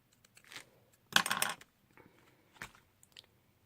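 Scissors snipping through decorative craft trim, heard as a few short, crisp cutting clicks close to the microphone, with one louder snip in the middle and quiet handling noise between the cuts.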